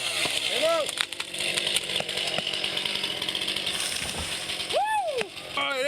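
A chainsaw cuts timber outdoors during forestry training, its engine revving and bogging down in rising and falling whines over a steady rattling chain, loud and close, while people talk nearby.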